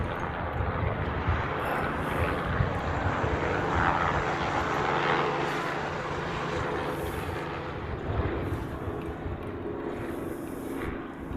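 A DHL cargo plane rolls down the runway for departure, a steady broad engine roar heard from a distance, holding at an even level throughout.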